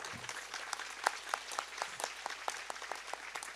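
An audience claps at a Hindu religious discourse during a yajna gathering, a thin, scattered patter of individual hand claps at moderate distance with no voices.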